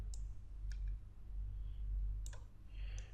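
A computer mouse clicks a few times while someone works in CorelDraw: sharp, close, isolated clicks spaced irregularly over a quiet low hum.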